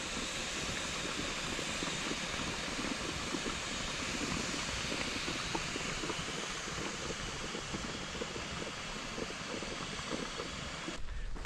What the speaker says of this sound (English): Looks like a steam vent here.